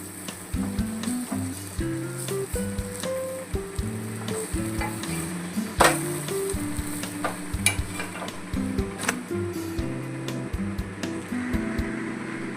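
Chana dal paratha fries in oil on a pan with a constant close sizzle. Occasional clicks and spatula scrapes come through while it is pressed and turned, and no one speaks.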